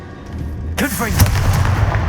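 A Confringo blasting spell goes off in the Hogwarts Legacy game, a sudden loud burst followed by a crackling, rumbling tail, with a voice speaking over the blast.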